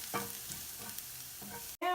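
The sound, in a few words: garlic sautéing in preheated olive oil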